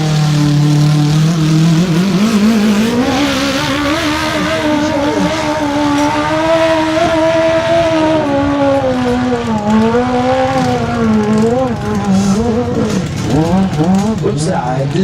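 A motocross motorcycle engine roars loudly and continuously on an impossible uphill climb at a French championship, pitch rising and falling as the rider throttles, with an announcer talking over it throughout.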